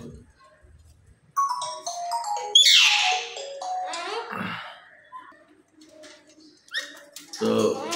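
Pet myna bird calling at close range, several varied whistles, squawks and warbling notes in bursts with pauses, with a person talking nearby between them.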